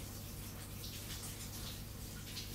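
Shower water runs in a steady, soft hiss with faint splashing and dripping detail, continuous and quiet throughout.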